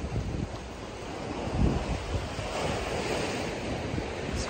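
Choppy, cold water sloshes and splashes steadily against a fishing boat out on the water, with heavy wind buffeting the microphone throughout and no talking.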